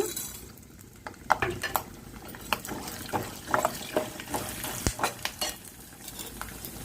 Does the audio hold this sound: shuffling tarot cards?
no